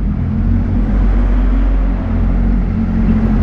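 City traffic in Shimla forms a steady, close low rumble of engines and road noise that holds evenly throughout, with no voices over it.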